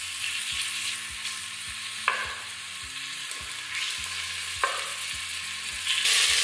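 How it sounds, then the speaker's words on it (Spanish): Salted and peppered chicken searing in a good layer of oil in a pressure cooker, a steady sizzle under a low background hum, with a few sharp scraping stirs and a louder burst near the end. "vamos a sellar el pollo que ya he salpimentado previamente"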